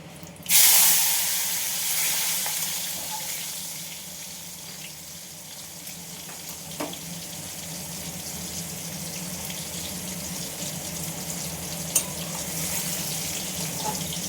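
Chopped tomato dropped into hot oil in a pan bursts into a sharp, loud sizzle that slowly settles into a steady frying hiss, with a couple of small pops later on.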